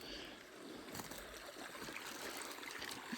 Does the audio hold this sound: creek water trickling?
yes